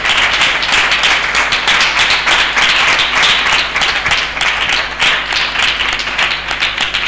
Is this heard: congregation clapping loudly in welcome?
yes